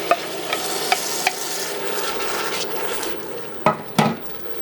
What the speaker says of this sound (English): So next we stir in our crushed tomatoes.